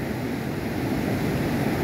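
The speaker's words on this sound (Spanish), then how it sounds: "Mira que está crecido el río por la tormenta que está pasando aquí." A storm-swollen river rushing near a bridge, a steady, loud, broadband roar of water with wind buffeting the microphone and no breaks.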